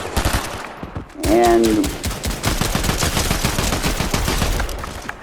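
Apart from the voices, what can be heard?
close quarters Warforged gun firing in video game Fortnite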